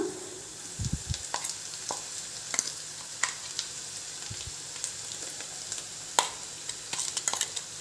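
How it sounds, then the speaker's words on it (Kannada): Pudina masala puffed rice (mandakki) is stirred in a hot pan, with a steady low sizzle and scattered dry scraping clicks and rustles from the spoon, close and clear with no talking. "ಎಲ್ಲ ಈ ರೀತಿ ಮಿಕ್ಸ್ ಮಾಡ್ಕೊಳ್ಳಿ"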